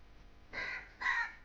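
Two harsh caws from a crow, one after the other, the second slightly louder, heard at moderate distance over a quiet background.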